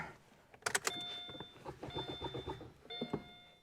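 A Subaru Crosstrek with a failed engine at about 120,000 miles is cranked but does not start, giving a few sharp clunks and a brief electrical whine and beeps in close, quiet surroundings.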